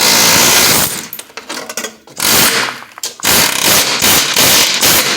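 A chisel cutting out a VW floor pan, pointed downward, hammers in loud, harsh metallic bursts. Short pauses break up the bursts, and it sounds close and continuous.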